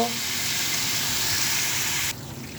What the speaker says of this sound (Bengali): এখন আমি এতে পানি অ্যাড করে দিব